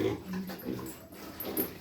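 Young pigs and boars in a Ukrainian farm pen, a mix of short grunts and squeals at moderate distance, with a person speaking over them.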